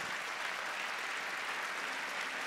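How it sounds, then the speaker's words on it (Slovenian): Audience applause at a Christmas and New Year wind orchestra concert in Slovenj Gradec as a young man is invited onstage, a continuous dense clapping wash heard fairly distant. "En aplavz, prosim."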